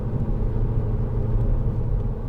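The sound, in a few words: 2010 SEAT Leon 2.0 TD FR engine driving in third gear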